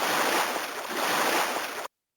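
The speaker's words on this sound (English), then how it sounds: "A ziphius makes the sound." Ziphius (beaked whale) call from a 2005 VTech animal alphabet toy train, UK version: a steady, loud, broadband whooshing like surf and wind that runs about two seconds and then cuts off abruptly, with no talk.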